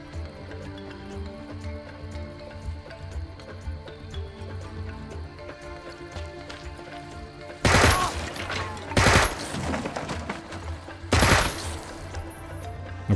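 Gunfire in the turn-based video game Jagged Alliance 3: three sharp, loud bursts of shots a second or two apart break over a quiet, steady music bed.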